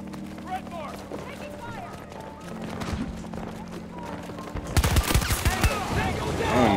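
Heavy gunfire from an overpowered weapon in a video game, a dense burst of rapid shots that grows louder in the second half over a steady hum of game sound.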